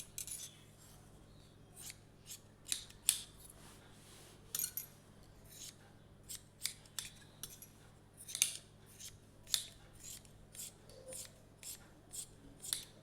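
Scissors snipping through piping cloth for sewing, a quick series of sharp, close crisp cuts in irregular bursts against a quiet room.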